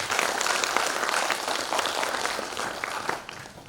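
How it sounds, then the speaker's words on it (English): An audience applauds team leaders at a public service internship mentors and coaches event, a steady dense clapping that holds for several seconds, then thins and fades near the end. "Can we give them a round of applause?"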